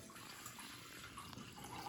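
Liquid pours steadily into a container for a blood model, a faint continuous watery hiss and trickle lasting a couple of seconds with no talk.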